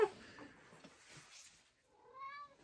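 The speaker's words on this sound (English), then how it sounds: "We have a cat." A pet cat meows once near the end, a clear drawn-out call after a quiet stretch of faint room noise.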